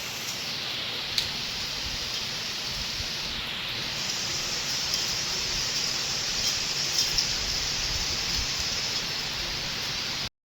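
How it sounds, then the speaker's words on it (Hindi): Loud, steady rustle of leaves outdoors in wet, rainy weather, a dense continuous wash of noise that holds evenly from start to finish with no voices. "ये पत्तों की आवाज़ देखो कितनी ज़्यादा बड़ी है।"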